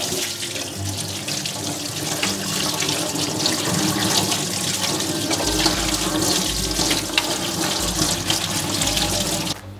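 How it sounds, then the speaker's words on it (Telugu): Cold tap water pours in a strong, continuous stream over freshly boiled green peas in a strainer, a close, loud splashing rush that lasts the whole time. "వెంటనే చన్నీళ్ళు పోసుకోవాలి"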